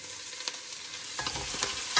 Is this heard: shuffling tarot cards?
no